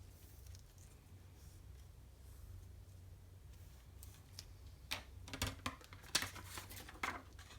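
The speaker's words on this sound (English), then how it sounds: "I will use the scissors to trim it." Quiet background, then a series of crisp snipping cuts of scissors through paper, irregular and close, growing more frequent toward the end.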